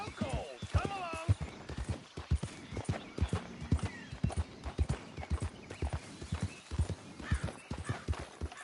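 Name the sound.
horse hooves clopping, from a video game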